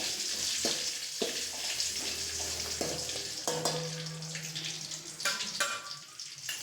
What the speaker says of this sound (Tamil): வரமிளகாயை மட்டும் எடுத்து எண்ணெயில் போட்டுட்டேன்